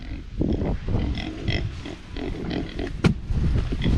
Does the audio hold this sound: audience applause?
no